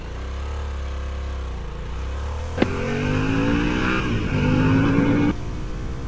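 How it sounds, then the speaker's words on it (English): A Harley-Davidson Sportster S motorcycle in sport mode accelerates hard up to the national speed limit, its engine note rising steadily through several gear changes before cutting off abruptly, loud and close. "So let's give the bike the acceleration test up to the national speed limit"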